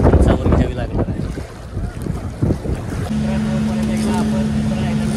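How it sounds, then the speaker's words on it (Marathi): A boat under way between islands on the Coron island-hopping tour in the Philippines: wind buffeting and water wash, then a steady engine drone that settles in, with a voice talking over the start. "त्यांनी लगेच दुसऱ्या आयलंडसाठी आपली बोट रवाना झालेली आहे."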